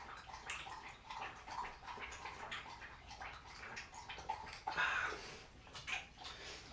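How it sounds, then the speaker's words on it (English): A dog laps water from its bowl, a quiet, uneven run of wet licks and small splashes close by, with faint kitchen clatter and no talk. "Hear Dixie lapping up her water."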